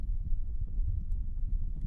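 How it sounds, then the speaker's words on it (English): Horse hooves clopping on muddy ground in the rain, a steady uneven rhythm of dull low thuds that carries on throughout, fairly close and moderately loud with no voices. "The sound of hoofbeats behind her made her heart slam against her ribs."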